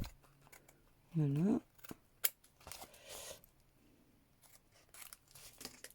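Scissors snip off the excess edge of a coffee filter in one short, close cut, followed by light handling noises and a brief spoken word.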